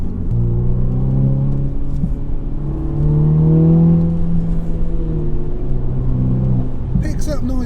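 A Ferrari 488 Pista's engine drones steadily from inside the cabin, its pitch climbing and settling as it pulls through higher gears, with a voice speaking briefly over it near the end.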